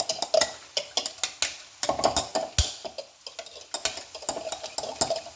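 Eggs are whisked briskly in a bowl with a utensil, a rapid run of sharp clicking taps against the side, close and fairly loud, with uneven rhythm and no talking.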